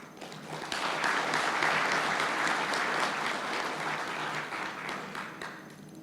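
Sustained audience applause from a large crowd at a Kenyan public event, a dense, steady wash of clapping that swells quickly and holds loud for several seconds before easing slightly.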